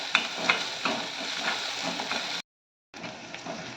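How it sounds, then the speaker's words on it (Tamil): Onions, garlic and slit green chilies sauté in a pan with a little salt, giving a steady close sizzle with scraping stir strokes before a brief gap of silence, then the frying resumes. "ரெண்டு பச்சை மிளகாய் கீரி போட்டுக்கலாம் நல்லா வதக்கிக்கலாம்"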